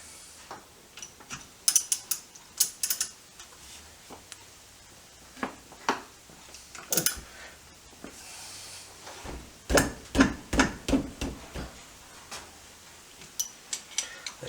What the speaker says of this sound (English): Let's just crack the bolts that hold the two cases together.